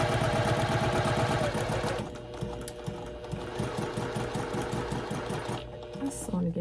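A sewing machine fitted with a quarter-inch foot stitches a quilt block, its needle running in a fast, steady mechanical chatter that drops to a slower rhythmic clatter partway through, loud and close.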